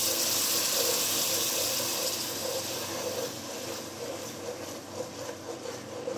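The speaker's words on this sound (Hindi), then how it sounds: "अब इसमें हम थोड़ा सा पानी डालेंगे" Water pours into a pan of sugar being prepared for caramel, giving a steady close hissing splash that eases slightly toward the end, with no talking.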